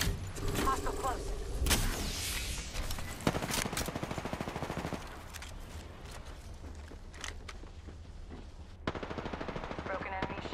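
Rapid bursts of automatic gunfire in the Octane battle royale game, loud clattering volleys with brief pauses and reload clicks, a couple of sharp single shots mixed in, shooting close and dense with game effects around it.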